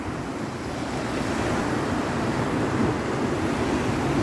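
Steady surf washes onto a shoreline, a continuous broad roar of breaking waves with some wind buffeting the microphone, close and fairly loud with no voices.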